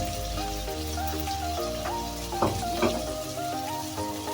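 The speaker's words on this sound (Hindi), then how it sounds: "सब्ज़ मिर्च, टमाटर, ये अच्छी तरह हम बुनाई करेंगे।" Green chillies, tomatoes and ginger roast in a pan for a Pakistani home-style bathua dish, giving a steady soft sizzle under continuous background music, with a couple of brief utensil clacks near the end.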